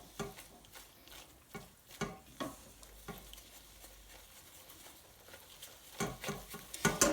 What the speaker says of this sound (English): get it all mixed in. Break the coconut powder down. Keep it on low heat.